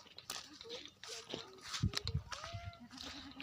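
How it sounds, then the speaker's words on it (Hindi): Goat on a sunny rural farm lets out a few short, wavering bleats, close and fairly clear, mixed in with people talking nearby and other farm noise. "और ये बकरी"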